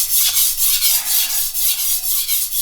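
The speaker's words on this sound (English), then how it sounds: "It looks like I'm grinding more on this side than this side" A chef's knife blade being ground by hand, with a steady, even rhythm of raspy strokes about every quarter second, close and fairly loud, with no talk.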